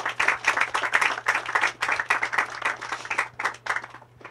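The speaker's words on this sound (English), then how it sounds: "I think he deserves a round of applause, please." Applause from a small audience at the commissioning of an aquaponics system for an agriculture department, heard as irregular bursts of clapping over a steady low hum, fairly quiet and close.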